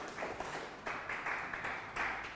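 Audience clapping at a WordPress conference talk, a moderate patter of hands in a hall, rising and falling in short bursts, fairly distant and soft.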